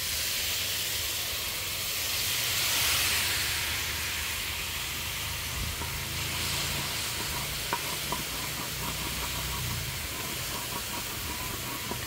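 Chicken frying in a pan after water is poured in, giving a dense, steady sizzle and hiss with rising steam that runs continuously and close, broken by a few small pops and scrapes and no talk.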